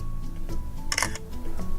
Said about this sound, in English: hit the white shutter to take photos